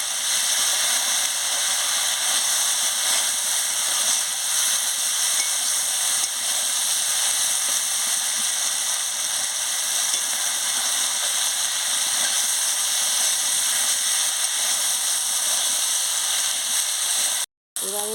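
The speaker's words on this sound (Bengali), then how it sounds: "আনাজ সবকে ভালো করে একটু ভেজে নিচ্ছি।" Vegetables and spices for a Bengali crab curry fry in a pan with a constant broad hiss and sizzle, loud and unbroken, with a short gap just before the end.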